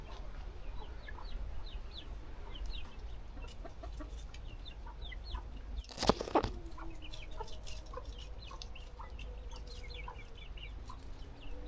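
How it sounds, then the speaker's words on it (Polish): Hens and young chickens cluck repeatedly at moderate distance in a garden, with a brief louder squawk midway and steady ambient hum beneath. "A u nas w ogrodzie, słuchajcie, kury, kurczaczki."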